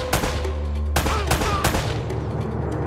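Rapid AK rifle gunfire in the video game Uncharted, a dense loud burst that cuts off, then resumes with further shots and echoing reports over a continuous low game rumble.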